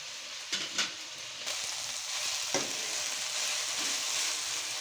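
Onions frying in a pan for onion chutney, a steady broadband sizzle running throughout with a few brief stirring scrapes near the start and middle, no talk.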